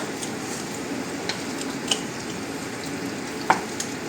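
Thawed mussels cooking with pasta, chorizo, mushrooms and peppers in a pan, a quiet continuous sizzle with a few faint utensil taps and clicks, no voices.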